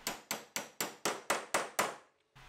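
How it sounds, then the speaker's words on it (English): Metal locator pins are hammered into the edge of a bi-fold door, eight sharp, evenly spaced hammer blows in quick rhythm, close and loud, followed by a short pause before another strike begins. "And these pins just get hammered in place."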